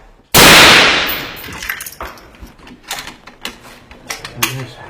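Rifle gunfire at a special forces firing drill: one loud, sharp close shot, then a ragged run of lighter cracks and clanks, with voices calling out over the shooting.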